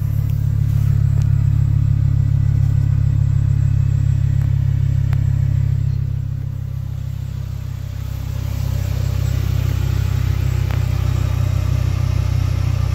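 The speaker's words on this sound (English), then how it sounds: "Gibson exhaust." A 2006 Hummer H3 with a custom Gibson exhaust runs steadily with a deep, loud, close rumble, dipping briefly in level partway through before settling back to a constant drone.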